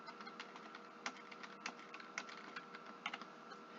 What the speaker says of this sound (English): if I were to start typing here